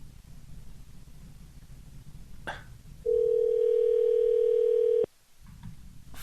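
A telephone call left unanswered: a steady electronic tone sounds loudly for about two seconds after a faint click, then cuts off abruptly over low room noise.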